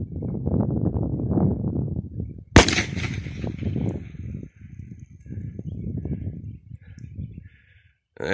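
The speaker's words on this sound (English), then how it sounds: "Explosive went off." An explosive set in a termite mound goes off with one sharp, loud blast midway. Rumbling and crackling follow, amid handling noise and movement outdoors.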